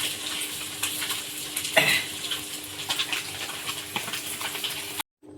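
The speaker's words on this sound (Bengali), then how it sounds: "কড়াই তেল আছে এর মধ্যে পাঁচ ফোড়ন তেজপাতা" Panch phoron spices and bay leaf sizzle in hot oil in a wok, a quiet continuous crackle with light pops and one brief utensil clink.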